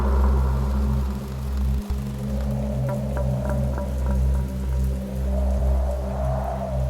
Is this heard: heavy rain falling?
yes